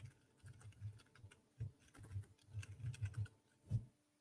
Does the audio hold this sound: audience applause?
no